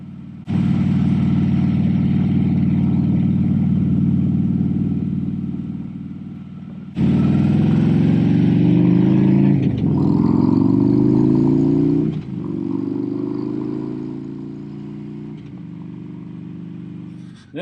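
A Harley-Davidson Road King motorcycle with new tires and bearings cruising at about 45 mph, its loud steady low engine drone broken by cuts and shifts, with engine pitch rising and falling through several gear changes.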